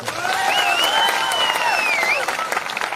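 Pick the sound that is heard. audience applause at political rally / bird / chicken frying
audience applause at political rally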